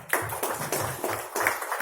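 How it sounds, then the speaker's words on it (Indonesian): A short burst of audience clapping at a literacy program opening in Banda Aceh, with uneven hand claps for under two seconds. "Mari kita berikan tepuk tangan."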